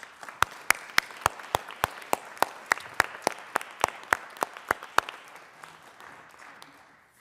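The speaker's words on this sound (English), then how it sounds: "please join me in giving a round of applause" Colorado Senate chamber applause: a modest round of distinct, evenly paced claps ringing in the large room, steady for several seconds before thinning out and fading to quiet.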